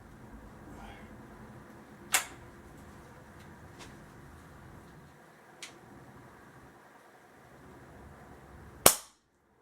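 A Umarex Fusion air rifle under repair fires three sharp, close shots spaced several seconds apart over a quiet background, the last one the loudest.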